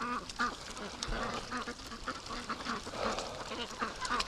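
Farm ducks quacking repeatedly along a muddy trail, a cluster of nasal calls overlapping in uneven bursts, fairly close but moderate in level, with no talk.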